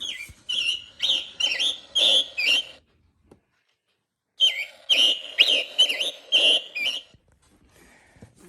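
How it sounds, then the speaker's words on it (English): A Mark Feldstein and associates bird clock chimes with a recorded scarlet tanager song: two clear phrases of hoarse, burry whistled notes with a pause between, fairly loud and alone. "9 o'clock is the scarlet tanager."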